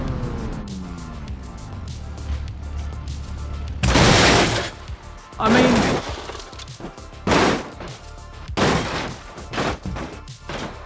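Simulated car crashes in the BeamNG driving game, a series of loud, abrupt impact bursts with crunching, shattering debris spaced every second or two, with a brief spoken remark near the start.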